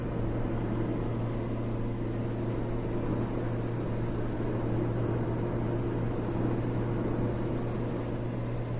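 Steady in-cabin drone of an Opel Astra H 1.6 held at full throttle on a mountain road, an even engine and road hum that neither rises nor falls throughout.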